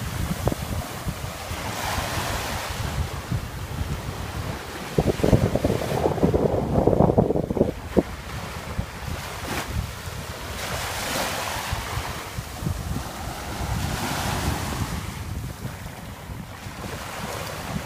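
Surf washes onto a white sand beach on Koh Lipe in steady, continuous rushes, with wind buffeting the microphone throughout and a stronger swell of water noise midway; no one speaks.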